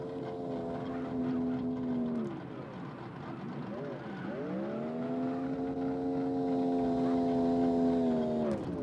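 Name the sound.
drift car engine at full throttle, wheel spin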